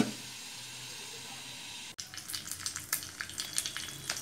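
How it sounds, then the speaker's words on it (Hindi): Ajwain, mustard seeds, red chilli and curry leaves hit hot oil for a kadhi tempering, starting after a quiet kitchen hum as a sudden close crackling sizzle with irregular pops that continues to the end. "ऐसे हम मैं कढ़ी में छौंक लगा रही हूँ।"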